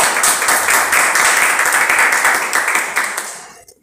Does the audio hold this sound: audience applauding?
yes